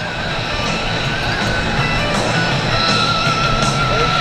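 A high-performance aerobatic display airplane roars past at the Frontiers in Flight 2024 airshow, its engine a loud, steady drone that holds throughout without pause.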